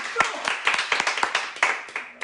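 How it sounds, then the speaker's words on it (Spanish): An audience claps for a priest, a short burst of sharp, fairly dense handclaps that tapers off toward the end. "Un fuerte aplauso para el Padre Diego"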